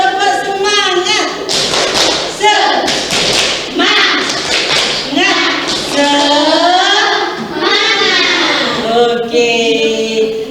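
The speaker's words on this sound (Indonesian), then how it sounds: "Sekali lagi. Tepuk semangat." A class repeats the 'tepuk semangat' rhythmic clapping cheer: a run of sharp claps and thumps sits under loud, overlapping chanted voices, steady and energetic throughout.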